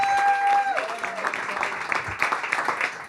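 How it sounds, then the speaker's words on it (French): An audience applauds a scriptwriter at a French-language stage show, clapping and cheering rising as a sustained tone fades out, with voices mixed into the crowd noise. "J'aimerais qu'on lui donne une bonne main d'applaudissement."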